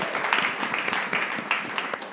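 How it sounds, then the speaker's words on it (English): An audience applauds a speaker at a public safety talk, a fairly faint, steady patter of hand claps lasting a couple of seconds with no voices over it. "So please give Zach a round of applause."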